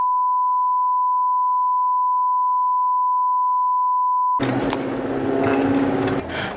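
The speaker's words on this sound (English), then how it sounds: "You should get that cool beeping effect" A long, steady high-pitched censor beep for about four seconds, cutting off abruptly into loud, busy background noise.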